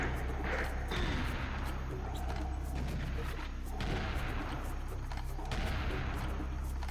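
Heavy shotgun blasts boom in the Serious Sam 1 HD shooter game, dense and loud, layered over continuous explosive rumble and chaotic combat noise with little pause.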